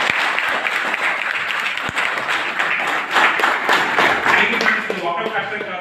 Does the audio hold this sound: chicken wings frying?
no